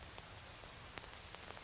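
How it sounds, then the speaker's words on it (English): Rain patters steadily on a surface in a soft, wide hiss with scattered individual drop ticks, faint and brief. "It's pouring down"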